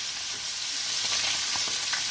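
Fish head and tail frying side by side in a kadai, a loud continuous sizzle with crackling pops rising through the short stretch, no voices.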